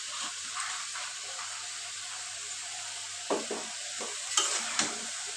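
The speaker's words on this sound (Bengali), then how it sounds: "এটা আমি ভালো করে কষিয়ে নিচ্ছি।" Chicken bones and cabbage being stir-fried in a pan, a faint low sizzle with a handful of spaced spatula scrapes and clinks toward the end, close and without speech.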